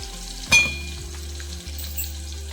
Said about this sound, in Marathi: तर हे मसाले आता चुलीवर फोडणी दिली